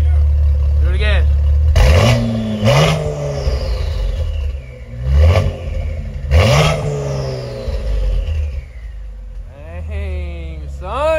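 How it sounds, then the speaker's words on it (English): A twin-turbo car engine revs close by in several sharp bursts, each rising and falling with whistling spool-up and blow-off sweeps over a rumbling idle, while people shout and talk excitedly. "Look at the turbos. Twin turbo."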